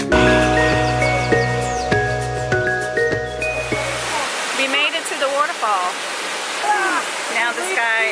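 A waterfall on a hike in Sao Miguel in the Azores roars as a steady, close rush of water. Voices talk over it throughout, and music plays during the first half.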